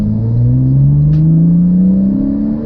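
A Porsche Boxster S engine revs steadily, its low tone rising in pitch over a couple of seconds, loud and close.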